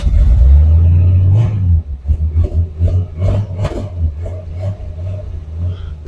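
A low-mileage car engine, bought new, cranks and catches with a steady low hum, then settles into a rough, pulsing idle with irregular throbs, close and loud with no talking.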